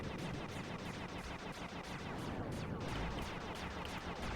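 Ricocheting shots and massive rapid-fire turrets blaze in Sly 3, a dense, continuous clatter of rapid gunfire that fills the whole stretch at an even level.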